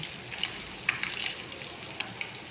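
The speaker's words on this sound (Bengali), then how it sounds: "দেখেন আপনারা মাছটা ভাজা কীভাবে হয় দেখেন" Pieces of rohu fish coated in turmeric fry in hot oil in a pan, giving a soft, steady sizzle with scattered small crackles and pops.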